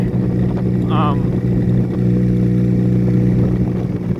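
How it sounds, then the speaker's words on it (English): A motorcycle cruises steadily down Winery Road, its engine a continuous low drone with no sharp revving, close and loud throughout, with a brief high tone near the first second. "I'm just cruising down Winery Road for the final time on this bike."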